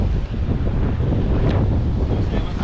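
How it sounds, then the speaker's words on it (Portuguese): Strong wind buffets the microphone at a rocky seashore during rock fishing, a steady loud roar with surf washing underneath and no clear voices. "Muito vento."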